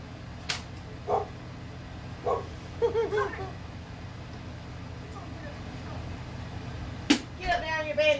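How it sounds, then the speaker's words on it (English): A pet dog barks indoors in a few short, separate yips spread across the stretch, moderately loud above a steady room hum, with a sharper bark near the end and some faint household activity. "My dog is barking."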